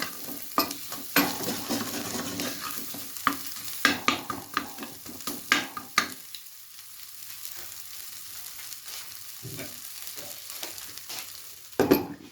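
Egg and mixed vegetables frying in olive oil for vegetable noodles, a continuous close sizzle broken by sharp scrapes and knocks of stirring, busier in the first half and quieter later, with no talking.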